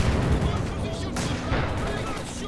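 Gunfire and artillery from a Company of Heroes 2 1v1 match, with Panzer and Ostwind anti-aircraft fire, as a dense, continuous stream of shots and blasts under a commentator's voice.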